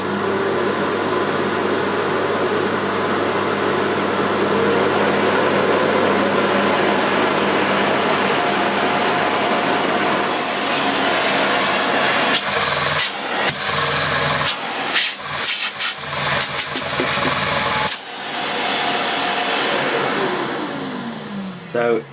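A Sebo D2 Total cylinder vacuum cleaner with a turbofan motor runs loudly and steadily at full power, a broad constant roar that later breaks into choppy bursts and dropouts.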